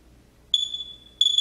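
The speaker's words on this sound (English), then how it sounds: "It makes a beeping sound when radiation is detected." A Geiger-Müller counter in a radiation measurement lab gives two sharp, high electronic beeps in quick succession, close and clear over near silence.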